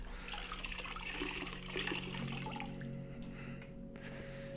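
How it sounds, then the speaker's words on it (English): Water leaks and trickles from a pottery wheel soaked by a sponge full of water, a faint, close dribbling with soft irregular drips in an otherwise quiet room. "So this is all leaking from our wheel here."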